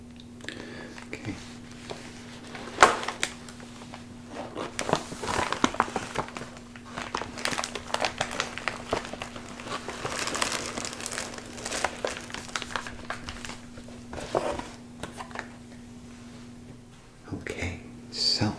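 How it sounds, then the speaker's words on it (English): A waterproof MRE bag peeled open by hand in a quiet room, close crinkling and crackling of plastic rising and falling in bursts, with soft talking in places. "You don't even need scissors to open them. You can just peel it."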